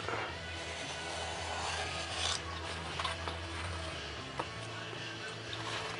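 RC jet plan pieces for a 70mm EDF model being trimmed with a 45-degree back cut, giving a steady rasping, rubbing cut over a low hum, with a few brief sharper scrapes near the middle.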